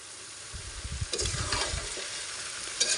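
Amra pickle is stirred in a pan after black mustard paste goes in, giving a wet sizzle and a scraping, sloshing churn that picks up midway and runs on steadily.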